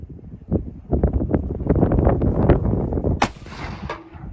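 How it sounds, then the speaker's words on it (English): A single sharp gunshot from an American-made Enfield rifle cracks out close and loud over gusty wind, its report ringing briefly afterward. "First shot for a rifle in probably 10 years."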